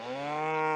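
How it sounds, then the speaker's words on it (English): A cow gives a single rising, sustained moo close by in a hillside field where cows and calves graze, clear and alone. "I was just up the hill here looking at these cows and calves"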